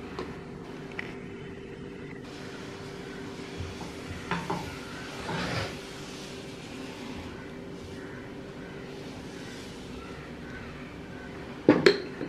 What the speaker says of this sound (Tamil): இப்போ இதை அப்படியே தோசை ஊற்றிட வேண்டியது